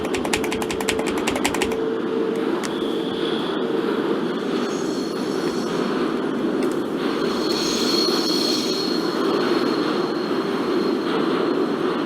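A subway train in the Open BVE simulator rolls past with a steady, loud rumble and rattling wheels, a burst of rapid clicking at the start and a high squealing tone rising later, with no talk.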